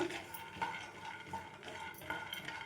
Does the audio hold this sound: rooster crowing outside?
no